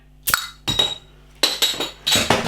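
Several bright glassy clinks in quick bursts, with a short crack of a Berliner Weisse beer bottle cap popping open near the start, close and fairly loud.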